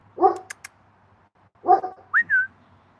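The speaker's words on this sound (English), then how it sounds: "who are you barking at?" A dog lets out two short barks, each with a quick yip, followed by a brief whiny whimper, close by in a quiet room.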